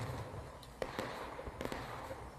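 Musket volley fired in the War of Rights game, heard as a few sharp, fairly distant cracks and pops scattered over a faint background hum, with no talking.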